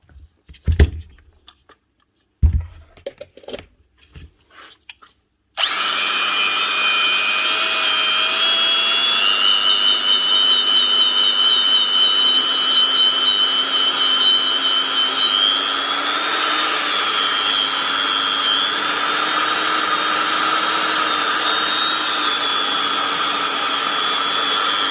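Old Makita 9501B angle grinder fitted with new bearings. A few faint clicks come first, then the motor starts and holds a loud, steady high-pitched whine, with its pitch rising slightly as it speeds up.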